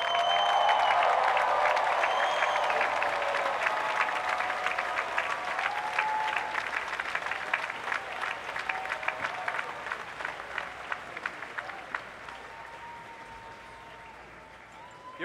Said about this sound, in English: give a round of applause to those who helped you on your journey